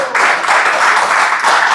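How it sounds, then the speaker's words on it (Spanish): A church congregation breaks into loud, close applause praising the Lord, a thick, continuous burst of clapping that dips briefly midway before swelling again. "Dale un aplauso al Señor"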